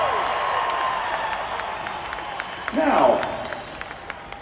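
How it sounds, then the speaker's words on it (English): Concert audience applauding and cheering as the band is thanked on stage at a key-to-the-city event in Cheyenne, sustained crowd clapping under someone speaking over a microphone, swelling briefly toward the end. "One last round of applause for everybody on the stage."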